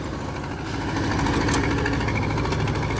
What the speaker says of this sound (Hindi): और देखिए कितनी ज़बरदस्त चल रहा है यहाँ पे, कितना बढ़िया परफॉर्म कर रहा है ट्रैक्टर अपना